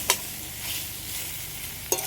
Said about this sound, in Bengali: সবগুলো একসাথে এইভাবে একটু নাড়িয়ে নিই।